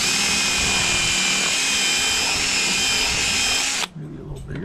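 Power drill bores out rusted Bondo from holes on a wheel loader, a steady loud whine with a high tone held for nearly four seconds before cutting off abruptly into quiet shop noise.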